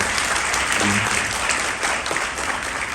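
Dense, steady applause from a large audience at a company event opening, filling the whole stretch loudly with no pauses.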